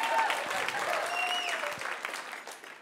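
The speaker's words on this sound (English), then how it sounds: "we should clap." An awards-night audience breaks into loud, full applause during a comedian's opening monologue, dense clapping with a few whistles that tapers off toward the end.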